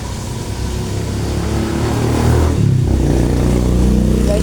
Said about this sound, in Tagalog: maingay. Sa mga tricycle.